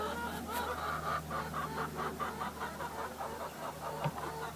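Free range chickens in an open field cluck steadily in a soft, continuous chorus at moderate distance, with occasional sharper calls over a low outdoor hum.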